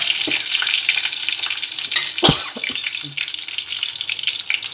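Curry leaves hitting hot oil in a pan, crackling and sizzling with bursts of popping and some stirring clatter, close and fairly loud.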